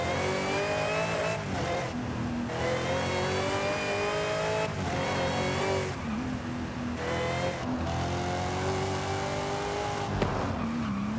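A supercharged LS3 6.2 V8 in Forza Horizon 5 revs hard through repeated gear changes, its loud engine note climbing and dropping in steady cycles, with occasional tire squeal.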